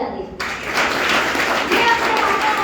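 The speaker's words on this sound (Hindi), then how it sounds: "तो एक बार ताली बजा दीजिए।" Seminar audience breaking into applause, a dense wash of many hands clapping that starts abruptly after a short lull and continues steadily and loudly to the end, with some voices mixed in.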